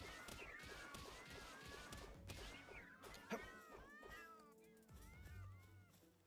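Cats meowing and caterwauling in the Palworld video game, several overlapping wavering cries over busy game sound effects and music, with a sharp hit partway through.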